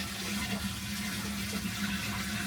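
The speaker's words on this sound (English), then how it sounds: "I have to hold the pedal down while I'm pouring the water" Water poured by hand into an RV toilet's holding tank while the flush pedal is held down: a steady, close, continuous rush of splashing liquid with no pauses and no talk.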